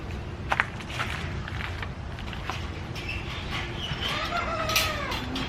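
A broody hen gives soft, low clucks and grumbles, close by, over a rustling coop background, ending with a short rising cackle-like call.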